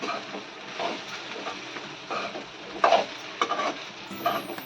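Poha is sautéed with salt in a pan, heard as soft, close scraping and stirring strokes over a faint sizzle, with a few sharper knocks of the spoon and no talking.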